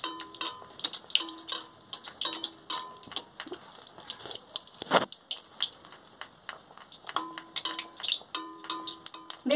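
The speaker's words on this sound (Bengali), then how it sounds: "আমি এরকম পাশ থেকে তেলগুলো তুলে তুলে বেগুনির উপরে দিয়ে দেবো" Beguni fry in hot oil while oil is spooned over them, giving a light crackling sizzle with scattered clicks and taps of the spoon against the pan, fairly quiet and without talk.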